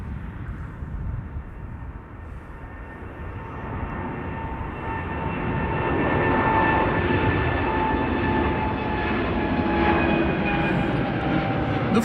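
Lufthansa Boeing 747-400, a four-engined jet in new livery, departing Schiphol airport: a steady broad engine roar with faint tonal whine that swells louder toward the end, continuous and fairly distant.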